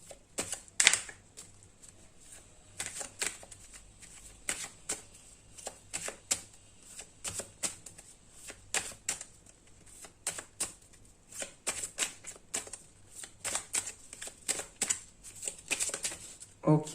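Traditional tarot deck being shuffled by hand, a steady run of crisp riffling card snaps and soft flutters, close and fairly quiet, going on for the whole stretch without talk.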